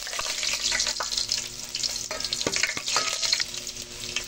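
Ginger sizzles and crackles in smoking hot oil in a cooking pot, a busy, continuous frying hiss with sharp pops, close and alone.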